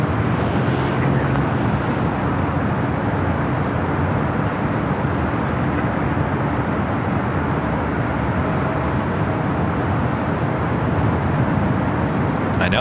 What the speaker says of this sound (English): we do have Southwest Airlines Flight 4340 coming in from San Antonio, 737-800 up next for an arrival here on the north side